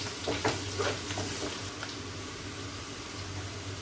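Bitter gourd frying in a pan, with a steady close sizzle and a few soft stirring scrapes early on, no voices.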